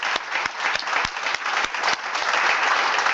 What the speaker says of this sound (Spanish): Por favor, otro aplauso.